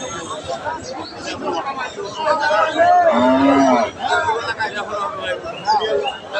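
Cattle at a traditional village cattle market, where crossbred cows and calves are traded, moo loudly through the middle of the clip over a steady hubbub of crowd chatter and bargaining voices.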